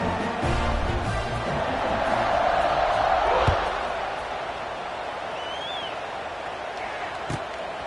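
A stadium crowd at a Miami vs Penn State football game roars in a broad, sustained wash of noise that swells then settles, heard beneath a commentator talking.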